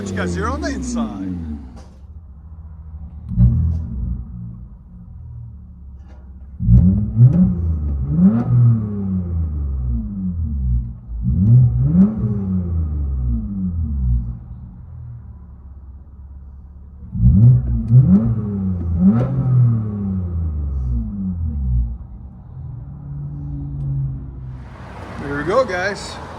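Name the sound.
straight-piped Toyota Avalon V6 heard from inside the car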